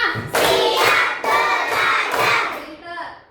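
A classroom group claps along in a counting clap exercise, with loud bursts of clapping and shouting voices in rhythmic surges and brief gaps between them.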